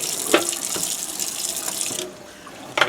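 Tap water pours into a tub of shirts set to soak, a steady rushing fill with splashy bursts, then the flow cuts off and a brief splash follows.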